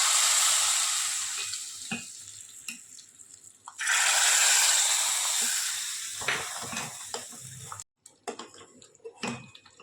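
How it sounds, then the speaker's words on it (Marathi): A hot spice tempering poured into ridge gourd dal sets off loud, close sizzling hiss in two strong bursts that fade, followed by stirring clinks and scraping against the pot. "ही फोडणी जी आहे ती मी डायरेक्ट टाकते"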